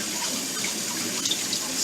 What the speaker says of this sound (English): Let me rinse off this spoon.